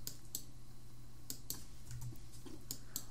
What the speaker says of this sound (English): So let me zoom back in on this by pressing plus on the keyboard a couple of times.